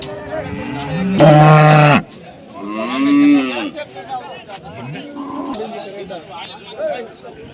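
Cattle at the Bagalur cow market near Hosur, with one loud, close moo followed by quieter bovine calls while people talk and bargain nearby.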